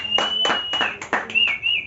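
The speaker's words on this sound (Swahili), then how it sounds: "Pigia Bwana makofi mazuri" A church congregation claps hands in a brisk, evenly spaced rhythm of about five sharp claps, with a thin sustained high tone running beneath.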